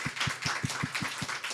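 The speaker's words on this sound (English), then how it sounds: "can I just have a round of applause for our amazing panelists" Faint, scattered hand clapping from a panel discussion audience on ocean and climate storytelling, about eight distinct claps in a loose, even rhythm, rather thin and distant.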